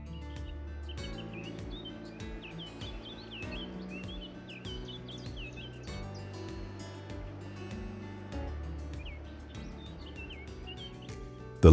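Birds chirp and call along a river in the Philippines, lined with coconut palms, their bright tweets scattered over a steady low hum and water-like rumble that runs the whole time.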